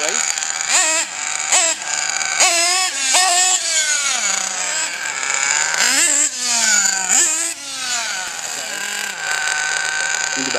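A nitro engine breaking in through a heat cycle, revving repeatedly in rising and falling high-pitched buzzing bursts, loud and near, with voices briefly underneath.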